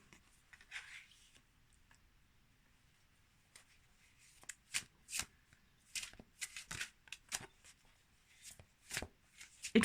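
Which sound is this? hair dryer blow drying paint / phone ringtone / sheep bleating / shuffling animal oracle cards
shuffling animal oracle cards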